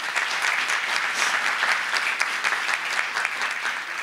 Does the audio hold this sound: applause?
yes